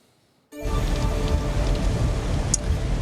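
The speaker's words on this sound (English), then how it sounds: "we are seeing a lot of rain coming down right now" Heavy storm rain in Central Pennsylvania suddenly bursts in after a near-silent half second, then hisses on as a loud, dense, continuous roar with no voices.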